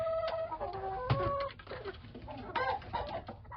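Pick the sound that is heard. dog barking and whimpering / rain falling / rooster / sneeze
rooster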